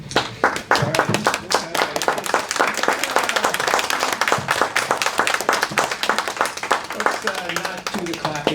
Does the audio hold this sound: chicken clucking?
no